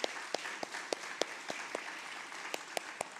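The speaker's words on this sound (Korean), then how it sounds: "네, 한번 박수로 격려해 주셨으면 좋겠습니다." A church youth congregation claps in a steady, even rhythm to encourage a returning mission team, with moderately loud, regularly spaced claps in a hall.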